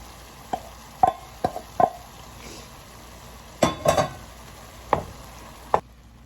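Spoon knocking against a pot as rice is stirred into tomato paste for Sierra Leone jollof rice: several sharp, separate clacks spaced unevenly over a soft sizzling background, with no voices.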